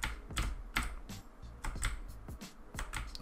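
Computer keyboard keys pressed rapidly during a racing video game, a close run of sharp irregular clacks and taps with no voice over them.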